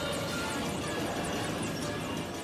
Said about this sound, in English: News helicopters converge at a crime scene.